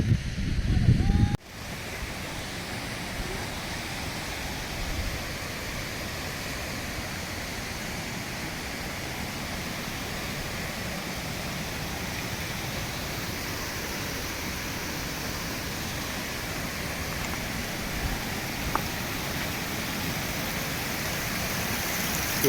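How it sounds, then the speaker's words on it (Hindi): Rushing water from the many waterfalls at Sahastradhara in Uttarakhand forms a steady, dense roar that stays loud and unbroken throughout, with no voices over it. "यहाँ बहुत सारे झरने जो है बह रहे हैं"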